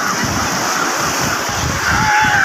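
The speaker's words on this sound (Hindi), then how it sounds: "और ये देखिए लहरें, ये है लहरें" Ocean waves break and wash continuously along a Goa beach, a loud, close surf roar with rushing water and wind, with no pause across the stretch.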